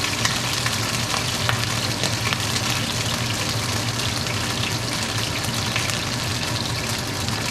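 Water boils hard in a pot on a glass top stove for steaming raisin dumplings, giving a constant, loud bubbling hiss close by with no talking.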